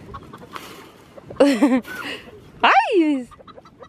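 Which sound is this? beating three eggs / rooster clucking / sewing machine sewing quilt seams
rooster clucking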